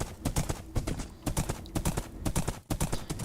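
Horse hooves clip-clop steadily in Minecraft, a rapid run of sharp, close hoofbeats filling the whole stretch with only brief gaps.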